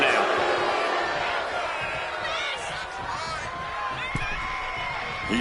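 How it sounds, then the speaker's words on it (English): Wrestling arena crowd in the WWE 2K25 video game, a sustained roar of cheering and whooping that swells slightly, with a voice talking over it. "And Cena is firing up the crowd here."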